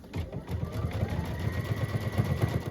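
Embroidery sewing machine stitching out a quilting-in-the-hoop design, a steady, fast, close needle patter running continuously with no voices.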